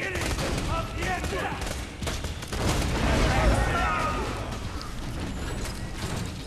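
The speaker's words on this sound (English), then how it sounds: "Explosions. Nice." Dense, continuous gunfire and explosions from the video game Borderlands 2 rattle loudly throughout, with a player's voice talking over the chaotic combat.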